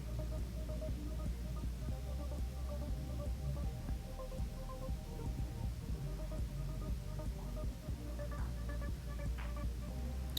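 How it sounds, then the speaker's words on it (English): A hand mixer blends vanilla extract into cream frosting for an Italian cream cake, giving a steady, loud low motor hum with a faint throb that runs unbroken for the whole stretch, with no voices. "just blend that to get the vanilla extract incorporated into all of the frosting"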